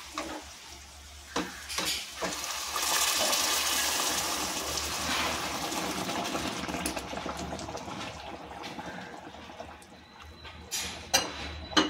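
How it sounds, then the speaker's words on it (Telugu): Boiled water poured into a pot of kadai chicken biryani base, a steady gushing, sizzling wash that swells loudly for several seconds then eases, with a few clinks near the end. "ఇప్పుడు దీంట్లో వాటర్ వేసుకుందామండి."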